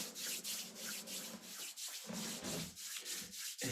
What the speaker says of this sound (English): So then rub your hands